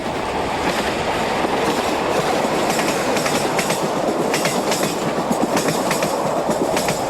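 A Portuguese Railways class 1800 locomotive, number 1804, hauls an intercity train round a curve past the freight yard at Barreiro, giving a steady, loud rumble with rhythmic wheel clatter and faint squealing, and no voices.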